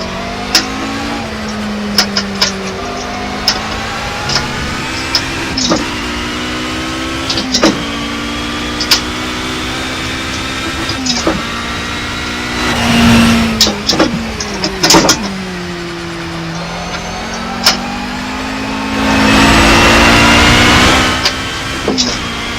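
A racing car engine in the Project Cars video game revving hard through the gears, rising whines broken by quick downshift blips and two longer roaring bursts, loud and close throughout.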